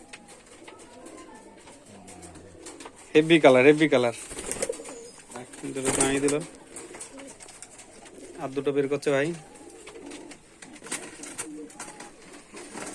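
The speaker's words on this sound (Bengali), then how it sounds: "এগুলো সব বিদেশি পায়রা" Foreign pigeons in cages coo in several distinct rolling bursts, fairly close and loud, between stretches where someone talks.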